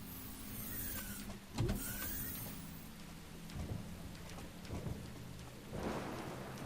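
Rain and thunder from the video game Deadly Premonition, a steady downpour hiss with a few low thunder rumbles and crackles breaking through, loud and close, no talking.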